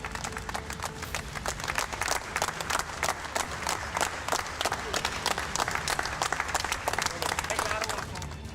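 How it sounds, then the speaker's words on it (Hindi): Residents of a housing society clap together to welcome neighbours returning home after recovering from Covid, a dense, steady crowd applause lasting throughout with a constant wash of many hands. "वहां रहने वाले लोगों ने तालियां बजाकर उनका स्वागत किया"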